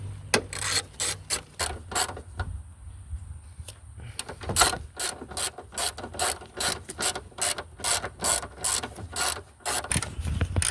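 A ratchet loosens bolts on the front passenger strut assembly of a 2009-14 Nissan Maxima S 3.5L V6, rapid rhythmic clicking in close, loud bursts that run almost continuously with brief pauses.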